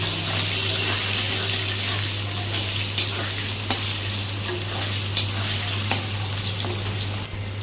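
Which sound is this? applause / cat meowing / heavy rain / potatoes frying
potatoes frying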